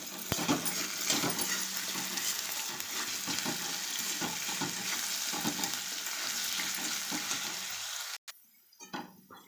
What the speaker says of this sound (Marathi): थोडं मीठ म्हणजे बटाटा लवकर शिजतो चांगलं परतून घ्या